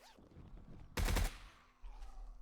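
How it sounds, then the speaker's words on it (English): Another player's gunfire in the survival game 7 Days to Die: one short, sharp automatic burst at middling distance stands out against quiet ambient background. "Oh, there is someone else shooting."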